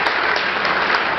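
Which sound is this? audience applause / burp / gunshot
audience applause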